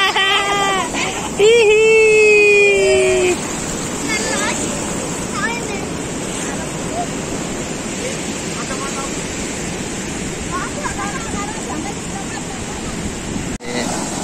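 Surf pounding the shore at Watu Lawang beach in Gunungkidul on Indonesia's south coast, a steady washing roar with wind buffeting the microphone while people talk nearby, a higher voice briefly rising over it early on.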